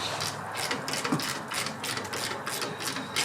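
Wrench breaking loose a nut on the front strut of a 4WD Toyota 4Runner, heard as a steady run of close, rapid ratcheting clicks with no talking.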